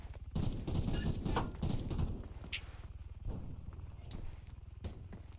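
Muffled gunshots punched through a wall in a multiplayer King of the Hill shooter match, scattered single cracks and short bursts over steady rhythmic footsteps and background game noise.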